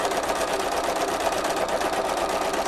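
A sewing machine runs continuously, stitching a flowing design in a steady, fast, even buzz, close and alone without any voices.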